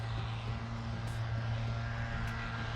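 A VolantexRC Ranger 767-2 RC plane at full throttle, its electric propeller motor giving a steady, continuous drone with a constant tone throughout, with no voices.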